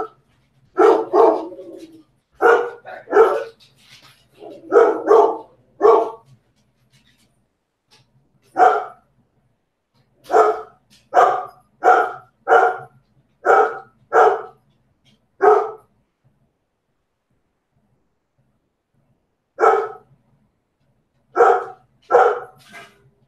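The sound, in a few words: dog barking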